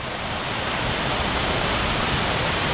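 Eagle Falls, a waterfall on a trail, roars as a steady, dense rush of running water that fills the whole clip without change.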